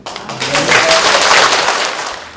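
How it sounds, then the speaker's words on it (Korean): A church congregation at an evangelism festival gives a big round of applause, a dense, steady wash of clapping that swells quickly and holds loud for about two seconds before easing off. "권사님 나오실 때 큰 박수 부탁드립니다."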